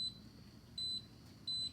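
Three short, bright electronic beeps from a kitchen timer being set while cooking Korean steamed buns, evenly spaced and moderately loud, with no talking over them.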